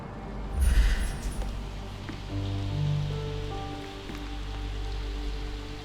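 Rain in Sherlock Holmes Chapter One patters steadily throughout, with a low sustained tone underneath and a brief louder splash near the start.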